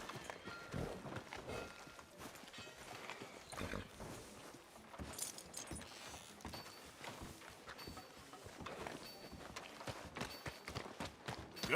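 Horse hooves clip-clop along a town street in the video game Red Dead Redemption 2, a steady run of close, moderately loud hoofbeats that continues throughout amid other game sounds.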